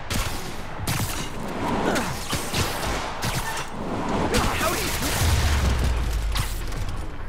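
A large explosion in the video game Marvel's Spider-Man Remastered: repeated booming blasts and crackling bursts spread over several seconds, with some faint voices in the game scene.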